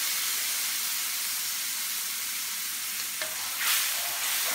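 Red wine simmers and reduces in the pan used to brown beef short ribs, giving a steady, even hiss with a brief louder scrape and flare of bubbling near the end.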